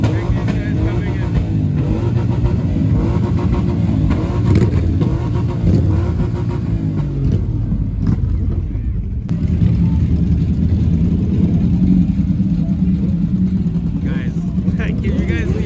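Motorcycles roll into a busy bike event, a constant loud mix of idling and revving engines close by, and someone talks over the din throughout.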